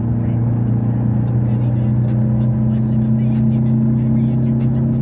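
Mercedes W124 diesel car accelerating at full throttle in third gear, a steady loud low engine drone holding throughout with no break.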